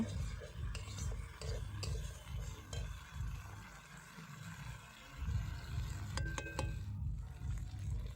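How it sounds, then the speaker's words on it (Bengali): Spices with salt, turmeric and chili powder for a prawn curry fry quietly in a pan while a spoon stirs and scrapes in repeated strokes, with a few light metallic clinks near the end. "পরিমাণ মতো লবণ দিলাম এবং দিলাম হলুদ গুঁড়ো দিয়ে দিলাম লঙ্কার গুঁড়ো ভালো করে কষিয়ে নেব"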